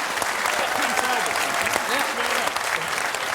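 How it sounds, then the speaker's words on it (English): Studio audience applause on an Australian football TV show, loud and sustained throughout, with voices talking over the clapping. "Big round of applause."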